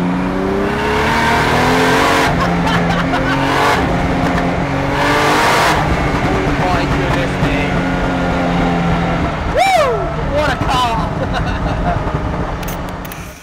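Heavily modified Nissan Silvia S14 with a 693 bhp 2JZ engine revs hard and pulls away, a loud sustained roar with rising pitch sweeps and tire noise, voices talking over it.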